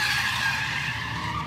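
Tires of a drifting car squealing and skidding in a steady, loud, continuous screech with engine rumble underneath, no talk.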